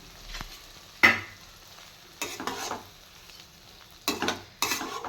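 A spoon stirs masala into frying okra (bhindi) in a pan, making scraping bursts over a quiet sizzle, with about four distinct stirring strokes and no voices.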